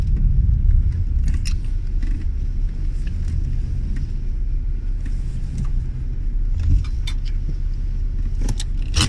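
1986 Ford Mustang convertible engine running rough, a loud continuous low rumble with uneven surges and faint metallic rattles, heard close up with no talking.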